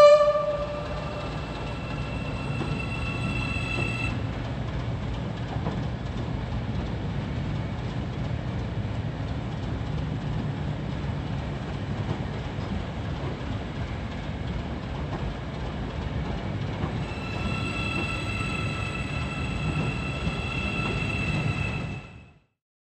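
A grey Hyundai high-speed train passes with a steady rumbling roar and rail noise lasting about twenty seconds, then cuts off abruptly; high tonal whines appear at the start and near the end.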